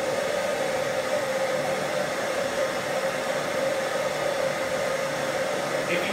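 A forge heating titanium gives a steady, even roar like rushing air, constant and unbroken throughout with no other sounds.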